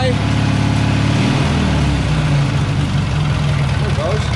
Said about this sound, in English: Idling a little high.